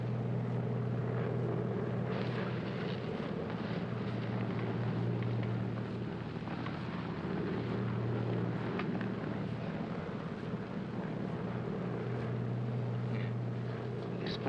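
Steady airplane cabin noise, a continuous loud engine and air roar with low rumbling hum throughout, no talk.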